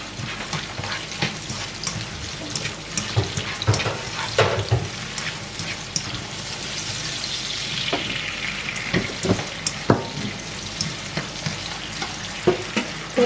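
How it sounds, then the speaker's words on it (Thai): Onions stir-fry in a pan for a spaghetti beef sauce, a close, continuous sizzle broken by frequent scraping and tapping as the spatula stirs. "ผัดหอม หัวใหญ่ให้หอมก่อนจ้ะ ผัดหอมจนหอมแล้วนะทุกคน"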